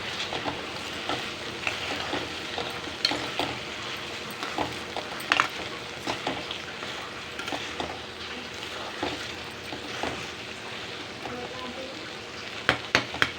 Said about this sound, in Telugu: ఇగో బెండకాయ ఫ్రై అయితే అవుతుంది.